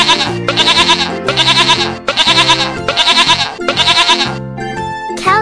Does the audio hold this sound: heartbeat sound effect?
no